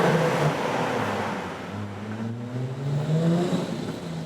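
A Jaguar F-TYPE's combustion engine, V6 or V8, revs and pulls with rising and falling tones, steady and fairly loud throughout, with no talking.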